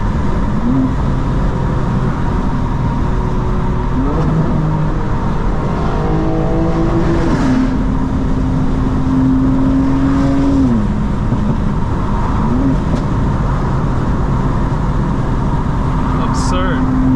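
A 900HP 2025 BMW M4 Competition xDrive accelerates hard from the cabin, its engine note climbing and dropping through several rapid gear shifts over a constant loud roar, with occasional voices.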